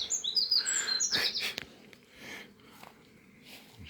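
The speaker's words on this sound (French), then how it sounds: "On entend bien la nature, les petits oiseaux." Small birds chirp outdoors in a garden setting, a cluster of bright quick tweets in the first second and a half, then quieter rustling and faint background ambience.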